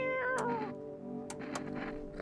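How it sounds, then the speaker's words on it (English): A cat meows in the video game Space Island Cerberus, one clear drawn-out meow with a falling pitch, followed by a couple of faint clicks over a steady low background hum. "Reach out and pet the cat."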